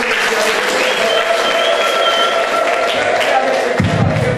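A church congregation claps together in a sustained, loud round of applause, with a few thumps and crowd murmur mixed in near the end.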